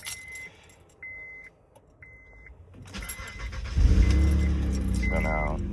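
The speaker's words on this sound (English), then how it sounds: "you're gonna start your car." A 2000-2006 Acura MDX is started: keys jangle with faint beeps in a quiet cabin, then the engine cranks and catches, settling into a loud, steady idle.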